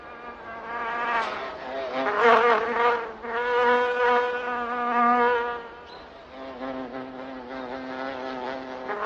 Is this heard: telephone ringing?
no